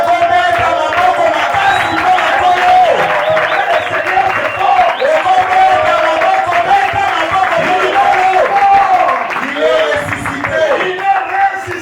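A church congregation at an annual assembly cheers and claps loudly and continuously, a dense wash of applause mixed with raised voices and shouts filling the hall throughout.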